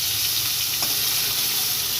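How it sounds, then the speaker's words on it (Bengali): Hilsa fish heads fry in a hot pan, giving a steady, close, continuous sizzle with no talking. "মাছগুলো এক একে ভাজা হয়ে গেছে এবার মাথা ভাজা"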